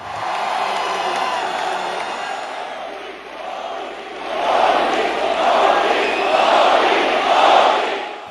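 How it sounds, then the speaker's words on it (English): A large crowd of about 19,000 at a rally for Indian Prime Minister Modi on his US visit chants and cheers in a broad, reverberant roar that swells louder in rhythmic waves toward the end. "The crowd waved and chanted his name."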